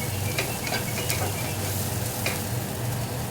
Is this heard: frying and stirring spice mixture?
yes